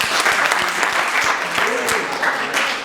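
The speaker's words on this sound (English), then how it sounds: "Give me a round of applause." A live audience claps in sustained, dense applause after a talk on leading from the heart; the clapping stays loud and even throughout, with a voice faintly audible beneath it.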